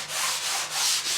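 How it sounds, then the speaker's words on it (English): A surfboard blank is fine sanded by hand, with steady rhythmic rubbing strokes, a close, breathy scraping that swells and fades about three times. "just pretty much fine sanding, fine tuning a little bit, and that's it"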